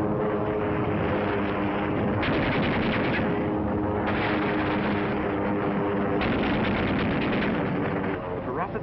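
Bombardment and gunfire from the Pearl Harbor attack, with dense, continuous rumbling explosions and rapid machine-gun bursts filling the clip, heard through a narrow, old-film sound band.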